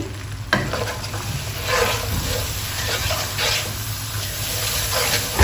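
Spices with chili powder and turmeric sizzle and fry in a hot pan after a splash of water goes in, a steady close hiss with stirring scrapes, loud and continuous with no talk.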